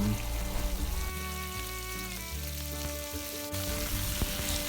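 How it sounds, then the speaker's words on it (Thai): Pork belly sizzles and crackles steadily in hot oil, with occasional stirring and scraping in the pan. "ผัดหมูสามชั้นกับน้ำมันพืชค่ะ"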